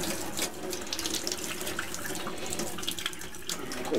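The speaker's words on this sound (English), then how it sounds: "I'm going to rinse my hand off, a little sticky. Actually, I'm going to rinse the thing off too" Hands and a sticky handle rinsed under a running tap while home brewing, a steady splashing stream of water into a sink with slight changes as things move through it, close and continuous.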